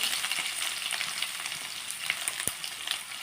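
Cumin and onions fry in a pan with a steady, close hiss and crackle, a few sharper pops and a faint clink from stirring.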